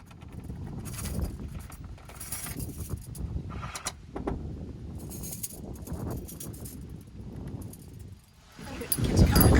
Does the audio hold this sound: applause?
no